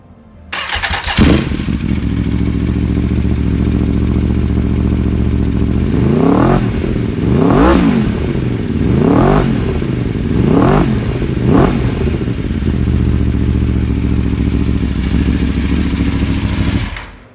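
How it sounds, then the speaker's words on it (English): Aprilia RSV4 Factory motorcycle (2009) with a full Akrapovic race exhaust cranks and fires up, idles loudly, then gets five sharp throttle blips in quick succession before settling back to a steady, rumbling idle. "It sounds absolutely fantastic. I'll start it up for you."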